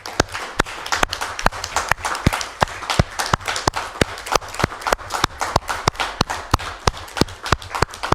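Council meeting audience applauds, a room full of hands clapping at a strong, steady rhythm, with sharp in-unison claps about every quarter second standing out above the rest for several seconds.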